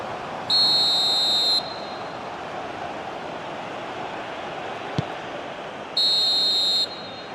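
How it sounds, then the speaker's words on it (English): Referee's whistle in the football video game eFootball PES 2021, sounding as two clear, fairly loud shrill blasts of about a second each, separated by several seconds of steady stadium crowd murmur. "Referee looks at his watch and blows his whistle."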